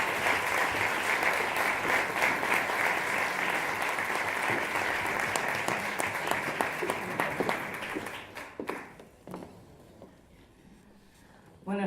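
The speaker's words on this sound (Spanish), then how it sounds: "Les pido un aplauso para ella." Warm applause from an audience at a book presentation event, dense steady clapping that fades out near the end, leaving a quiet room before a brief sound at the close.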